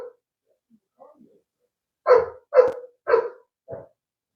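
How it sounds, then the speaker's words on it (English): A dog barks four times in quick succession, each bark loud and close, after a few faint soft sounds. "This dog."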